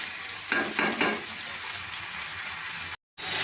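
Vegetables frying with whole tempering spices in a pan for a rohu fish head five-vegetable curry: a constant, close sizzle with several sharp stirring scrapes near the start and a brief cut to silence near the end.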